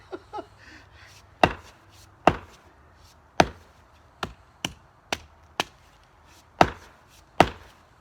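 A hammer beats the back of an axe head, driving the head onto its handle while it is hung. Nine or ten sharp, loud metallic-wooden knocks land at uneven intervals, with two softer taps at the start.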